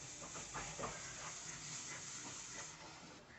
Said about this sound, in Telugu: ఆయిల్ హీట్ అవ్వగానే 2 పెద్ద సైజు ఉల్లిపాయలు చిన్న చిన్న పీసెస్గా కట్ చేసుకొని ఆయిల్లో యాడ్ చేసుకొని ఫ్రై చేసుకోండి.